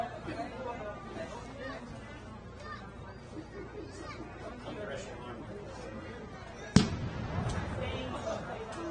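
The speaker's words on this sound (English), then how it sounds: "you're hearing the sounds of one of the original Revolutionary War cannons being fired here on the streets of Union." One original Revolutionary War cannon fires on a town street during a Memorial Day parade in Union, a single sharp boom late in the clip rising above steady crowd chatter and street noise.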